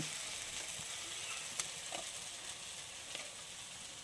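Tomatoes and onions sautéing in a pan as spice powders are added, a steady close sizzle broken by a few faint scrapes and light clicks, with no voices.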